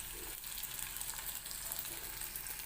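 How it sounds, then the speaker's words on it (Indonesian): Salted fish frying in hot oil gives a steady, dense sizzle with crackling bursts, loud and close throughout, with no voices. "Lalu goreng ikan asin hingga kuning keemasan."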